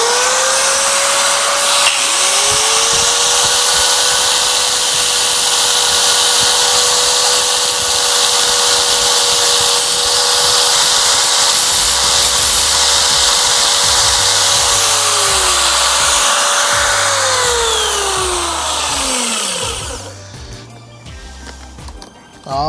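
A grinder works steadily on a hardened steel valve spring, a loud continuous whine for about twenty seconds that sags in pitch near the end before stopping, with a voice talking briefly over it.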